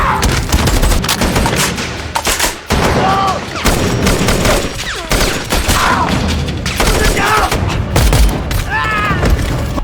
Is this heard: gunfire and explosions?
yes